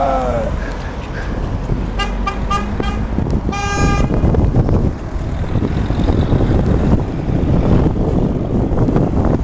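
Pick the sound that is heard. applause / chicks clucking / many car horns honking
many car horns honking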